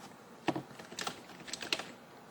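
Quiet keystrokes tap on a computer keyboard while renaming files, a few light, uneven clicks in quick bursts with no talking.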